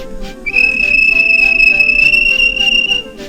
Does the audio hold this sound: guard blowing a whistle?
yes